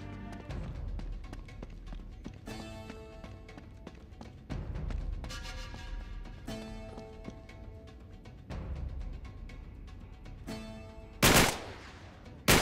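Repeated bursts of gunfire in Uncharted 3 with sharp cracks over a busy game soundtrack, several shots spread across the clip and a loud blast near the end.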